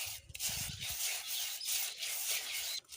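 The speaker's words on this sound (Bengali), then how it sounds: "এই বালুর ওপরে এইভাবে ছড়িয়ে দেব আর অনবরত নাড়তে হবে এই কাঠি দিয়ে" A wooden stick stirs paddy rice across hot sand to pop it, making a continuous close scraping and rustling sound with steady rhythmic strokes and no voices.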